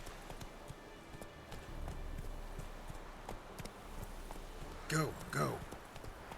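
Horse hooves trot in the video game The Witcher 3 as a faint, quiet patter under game ambience, while a voice speaks briefly near the end.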